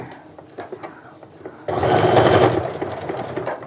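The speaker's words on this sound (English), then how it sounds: "you're just going to sew across the top of it" After a quiet moment with soft handling clicks, a sewing machine starts up close and loud, stitching steadily across the top of a fabric bag in one continuous run.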